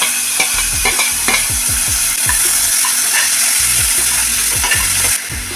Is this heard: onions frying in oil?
yes